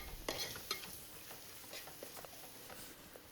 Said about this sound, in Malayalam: ഇനി ഇതൊന്ന് നന്നായി ഒന്ന് വഴറ്റിയെടുക്കാം